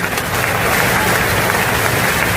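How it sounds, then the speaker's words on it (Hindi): Loud, dense applause from a large audience at a live religious gathering, a steady wash of clapping that holds unbroken throughout with a faint murmur of voices mixed in. "ताली बजा करके"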